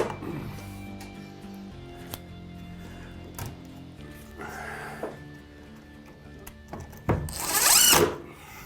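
Cordless power drill driving mounting screws for an electrical box during ceiling drywall work, with short whirring bursts between pauses and a louder, longer spin near the end, close and clear.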